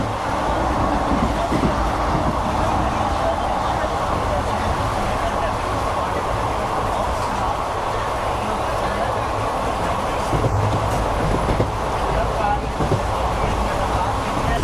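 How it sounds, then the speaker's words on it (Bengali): A passenger train on the Chennai to Rameswaram run rolls along steadily, its continuous rumble and wheel noise loud and close throughout, with people talking over it. "চেন্নাই ম্যাঙ্গালোর স্টেশন থেকে আমাদের এই ট্রেনটি ছেড়ে দিয়েছে"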